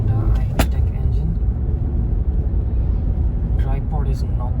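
Steady, low engine rumble from inside a Hyundai Elite i20 on the move, a close and continuous drone with speech over parts of it.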